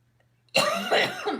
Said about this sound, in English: It gets late and then I cough.